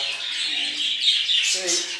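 Caged Australian doves and budgerigars at a home breeding setup give a continuous, bright, twittering chatter with no voices over it.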